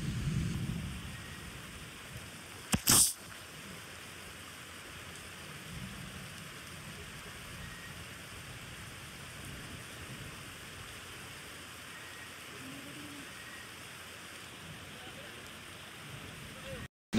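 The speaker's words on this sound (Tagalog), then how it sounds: "Medyo naulan at medyo basa rin kami." Steady rain falls outdoors during an eel hunting trip, a constant soft hiss with a brief louder burst early on; people talk faintly beneath it.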